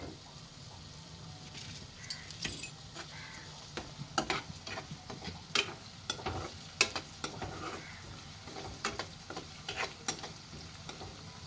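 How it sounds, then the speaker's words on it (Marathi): Paneer fries in hot oil for a paneer and potato dish, a soft sizzle broken by frequent sharp clinks and scrapes of a spatula stirring in the pan. "पनीर तळून घेऊया तेल गरम होऊ द्या"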